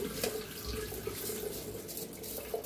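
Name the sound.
water draining through a sieve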